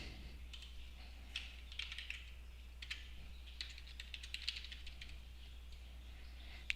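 Login credentials typed on a computer keyboard, soft irregular keystrokes in short clusters over a low steady hum, faint and close.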